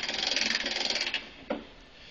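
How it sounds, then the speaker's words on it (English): Hand crank on a material lift raising the forks, giving a fast, even run of close ratchet clicks that stops, followed by a single sharp metallic clack. "And you just simply crank it upwards and we raise up our forks."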